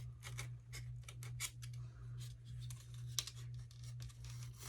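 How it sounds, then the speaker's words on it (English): Cutting through material at a fairly shallow angle while building a secret door, heard as a series of sharp, close snipping and scraping bursts in quick irregular succession over a steady low hum. "I'm just going to cut down here at a fairly shallow angle"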